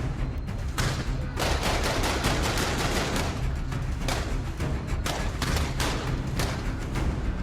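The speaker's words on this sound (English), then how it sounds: "we see Todd and his men firing at Marty and the others" Sustained gunfire as a group of men shoot at others in a TV drama scene, a dense, continuous barrage of overlapping shots with sharp individual cracks standing out, loud and close throughout with no talk.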